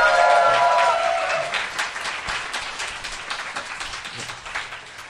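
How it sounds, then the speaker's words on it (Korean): An audience at a live public broadcast recording claps for the event's sponsors, a steady spread of many hands throughout, with a brief tonal sound at the start that soon fades. "박수 좀 쳐주시면 감사하죠"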